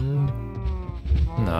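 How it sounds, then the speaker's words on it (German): Cattle lowing in the block-built farm world of Minecraft, a few overlapping low moos from a small herd nearby, loud and continuous across the short stretch with no talk over them. "Oh, wir haben mehr Kühe als gedacht sogar"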